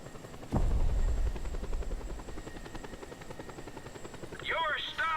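A helicopter in Just Cause 2 thumps into motion with a sudden low burst, then its rotor chops steadily under the engine hum, while a brief sliding electronic chirp sounds near the end.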